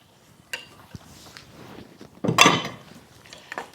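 Meat goes into a pot of Louisiana red beans for canning, with soft clinks of a utensil, a louder scraping thud as it drops in, and light stirring knocks close by.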